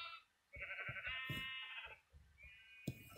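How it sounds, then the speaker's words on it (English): Sheep in the Minecraft video game bleat in a few close, nasal calls, one long bleat then a shorter one, with soft game sounds between. "Sheep."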